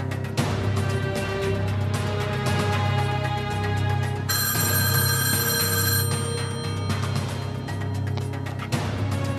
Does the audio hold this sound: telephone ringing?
yes